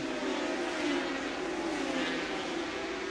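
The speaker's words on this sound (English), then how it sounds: "And there the field stream by at the end of lap 1." A 1981 superbike race field, 500cc machines, streams past at the end of lap one, a loud, steady, dense engine roar filling the whole stretch.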